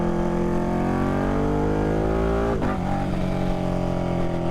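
A Ducati Panigale motorcycle accelerates at about half throttle, its engine note climbing steadily, then a brief break for a gear change before it pulls again, loud and close with no talking.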